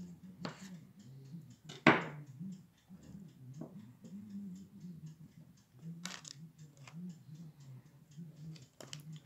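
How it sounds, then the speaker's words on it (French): A knife cuts through a wheel of reblochon cheese on a board, giving a few soft chopping taps and one sharper thud, close by and quiet under a low background hum. "je vais couper mon reblochon"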